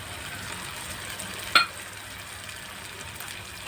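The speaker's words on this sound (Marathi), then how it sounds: "आणि हे चांगलं परतून घेऊया" Onion, tomato, chili powder, turmeric, spice mix and salt sauté for okra bhaji, a steady close sizzle with one sharp metallic clink of a spoon against the pan midway.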